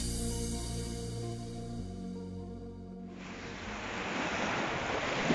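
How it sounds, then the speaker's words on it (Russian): Waves slap against a pier in a cool spring wind on the Turkish coast, a steady wash of surf that rises and broadens in the second half, with no talking. "Дует прохладный ветер, волны бьются о причал и волнуется море."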